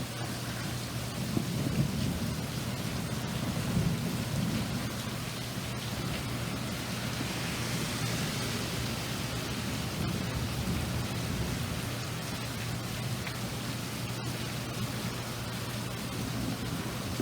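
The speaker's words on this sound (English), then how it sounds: "There's thunder and lightning" A thunderstorm pours steady, dense rain outdoors while an avocado seedling is being repotted, with low rumbles of thunder under the continuous hiss and no speech.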